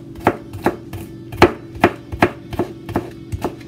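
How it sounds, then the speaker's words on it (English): A knife chops vegetables on a cutting board for homemade meat loaf, with steady, crisp thuds repeating roughly every half second, close and clear, with no talking. "I'm not done chopping them up. I will chop them up a little bit more."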